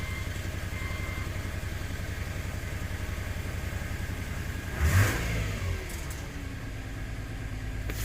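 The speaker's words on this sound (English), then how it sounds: "Why does it feel like we have a dead cylinder?" A 2006 Subaru Tribeca 3.0-litre engine idles with a cylinder misfire, giving a rough, uneven pulsing drone, with one brief rev swelling up midway before settling back, heard from inside with no talk.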